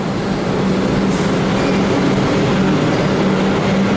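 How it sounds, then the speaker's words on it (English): A Melbourne suburban metro train with pantographs gives a steady, loud rumble and rolling rail roar that holds evenly throughout, with no voices over it. "These are suburban trains."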